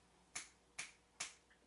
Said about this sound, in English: Snapping my finger.